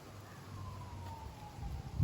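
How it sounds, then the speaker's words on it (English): A distant emergency vehicle siren wails steadily through a town, its tone sliding slowly downward over a low rumble of traffic and wind. "You know there's sirens going all the time around here."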